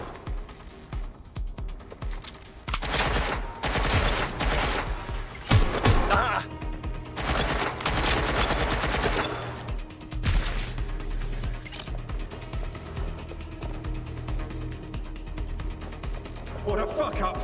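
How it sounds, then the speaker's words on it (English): Bursts of gunfire and mechanical clatter in the video game Watch Dogs Legion, coming in loud clusters between quieter stretches, with background game music and voices. "I'm taking fire!"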